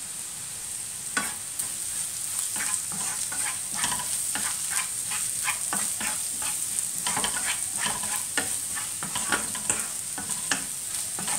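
Onions sautéing in a pan with turmeric powder, a steady sizzle broken by frequent scraping and clattering stirs of the spatula, close and with no talk.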